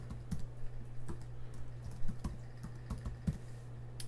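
Fingers type on a computer keyboard in quick, uneven bursts of crisp clicks over a steady low electrical hum, close and fairly quiet, with no speech.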